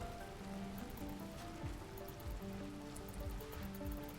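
Steady rain in the colony-building game RimWorld, a continuous soft patter on surfaces with scattered droplet taps under faint, low ambient music tones.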